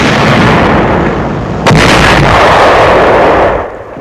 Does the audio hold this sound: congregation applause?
no